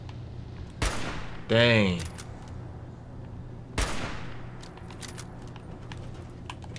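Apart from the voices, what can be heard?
sniper rifle gunshots in Fallout 4, video game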